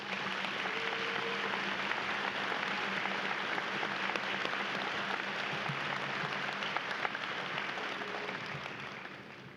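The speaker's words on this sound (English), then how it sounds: "Let's give them a round of applause." Sustained applause from a high school graduation audience, steady and dense for the whole stretch, with a faint voice murmuring underneath.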